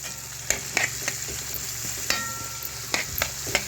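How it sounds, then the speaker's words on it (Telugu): Bitter gourd pieces frying on high heat with turmeric in a pan, giving a continuous close sizzle punctuated by sharp spatula taps and stirring scrapes, with no voices. "సో పసుపు వేసేసి వేయించేసుకుందాం"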